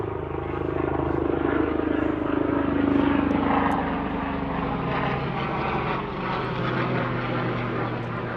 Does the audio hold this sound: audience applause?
no